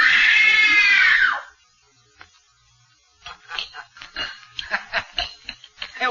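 A woman screams in terror during a 1930s film scream test, one loud, sustained wailing shriek that rises and falls, followed after a pause by someone talking.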